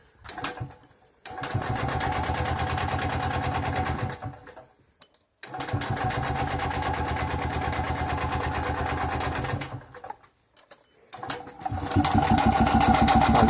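A Tula TMZ-5.951 motorcycle engine fitted with contactless ignition catches and runs with a steady, loud, buzzing idle, briefly dropping out twice before restarting and picking up again toward the end.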